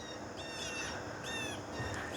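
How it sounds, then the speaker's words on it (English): Several birds call outdoors on a quiet morning in front gardens at the end of summer, short repeated high chirps rising over a faint steady background hush, soft and somewhat distant. "There's a lot of birds"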